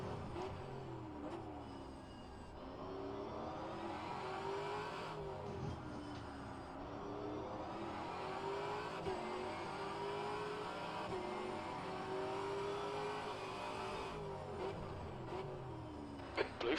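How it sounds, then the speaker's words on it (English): Race cars in the rFactor2 sim at the Detroit Grand Prix circuit, a faster class closing on a slower one, engines droning and revving steadily throughout with rising and falling pitch, fairly loud and continuous. "there's a faster car approaching, coming up on a slower class car"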